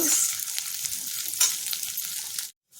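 Orange peel frying in hot oil with mustard seeds gives a steady, dense sizzle with faint stirring scrapes, running close and alone before cutting off abruptly near the end.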